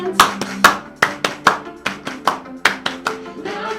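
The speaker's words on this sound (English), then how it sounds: "Clap your hands like this." Hands clapping in a children's sing-along, a string of sharp, close, loud claps in a fairly regular rhythm with slight pauses, alongside musical or vocal background tones.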